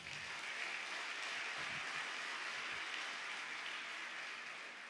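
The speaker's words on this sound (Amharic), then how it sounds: "አጨብጭቡለት ለጌታ ክብር።" Faint, distant clapping from a church congregation applauding in worship, a soft even wash of hands that holds steady and fades slightly at the end.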